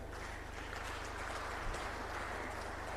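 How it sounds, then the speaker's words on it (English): Audience applause for the moderator at the official opening of TAIC 2023, a steady wash of clapping from a seated crowd, fairly faint and sustained throughout with no talk over it. "Another round of applause for the moderator."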